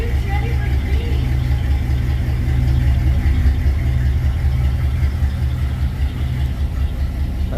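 A classic car's carbureted engine runs at a loud, steady, low idle close by, with a rough rumbling pulse throughout.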